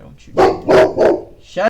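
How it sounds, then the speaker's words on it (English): A dog barks three times in quick succession nearby, loud and sharp, while a person speaks over the barking. "sorry about that barking if you heard it"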